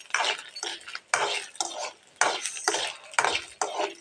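Urad dal and cumin seeds dry-roasting in a pan, giving repeated bursts of stirring and scraping with a soft crackle, in a steady rhythm close by.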